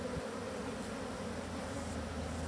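Bees hum and buzz in an opened beehive, a dense, steady drone that fills the scene closely and continuously with no talk.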